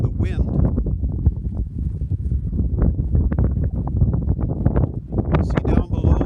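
Gusty wind buffets the microphone on the exposed shoulder of Colin Mountain, a loud, steady roar with rough, rumbling bursts throughout and a muffled voice partly buried beneath it.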